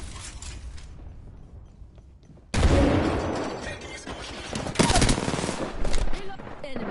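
Video game gunfire crackles through a busy firefight, starting quieter and then jumping into louder bursts of repeated shots with rattling mechanical noise, with voices talking over the action.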